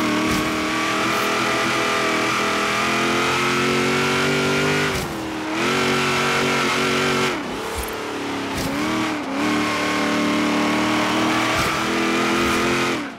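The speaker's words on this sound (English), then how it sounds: "I like crazy V8 in it with a supercharger" Supercharged V8 Corvette engine in Forza Horizon 3, racing a rainforest circuit at Byron Bay on stock tires, revving loud and close with steady high-pitched harmonic whine, dipping briefly during shifts and lift-offs before surging again, no talking.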